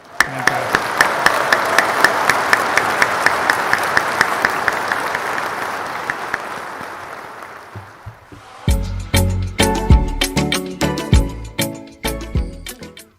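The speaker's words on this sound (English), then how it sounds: "So please, a round of applause." Applause at a Rotary Club meeting fills about eight seconds as a steady, dense crowd clapping, then fades and gives way to a louder, sparser passage of strong transient hits.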